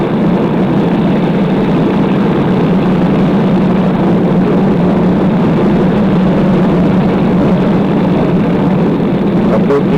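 Funny car drag racers roar at the NHRA Winter Nationals, a loud, continuous, heavy engine drone that holds steady throughout, with crowd or announcer sound blended beneath.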